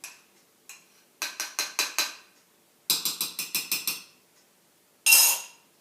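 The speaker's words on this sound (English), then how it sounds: "Take my big spoon, my long spoon, can stir a little bit." A long spoon clinks against a container while stirring tomato juice: a single tap, then two quick runs of four or five sharp metallic ticks in steady rhythm, ending with a brighter scrape, close and clear with no talk.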